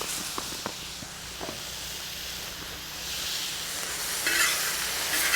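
Pork fajita meat with garlic and onion seasoning sizzles steadily in an outdoor cooking wok while being stirred, with a few scraping clicks of the utensil over a continuous frying hiss that grows slightly louder.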